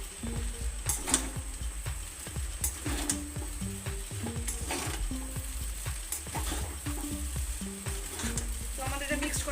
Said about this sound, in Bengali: এবার এটাকে আমি ভালো করে মিক্সড করে নেব।